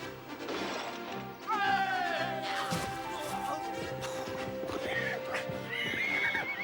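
During a bronco riding event, a horse whinnies with rising, wavering neighs over clattering hooves and crashing thumps, set against a music score and faint voices.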